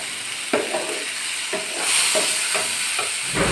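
Wilted onions frying in a pan are stirred with a utensil, giving a soft sizzle broken by a handful of distinct scraping strokes roughly every half second to second, close up and without voices.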